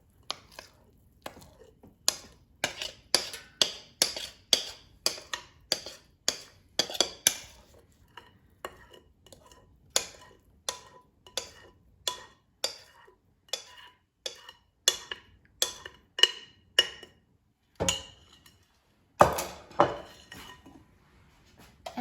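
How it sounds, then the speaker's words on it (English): A metal cake pan goes into an air fryer while yellow cake batter is scraped and spooned into it, producing a long series of sharp, close taps and clinks with quiet gaps between them. "So I'll put the pan in the air fryer first, and then I'll transfer the batter into the pan."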